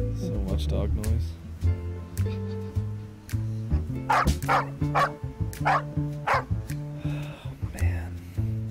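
Dogs bark and yip repeatedly in short bursts, near and fairly loud, with a whimper or two among them, while people talk over and between the barks throughout.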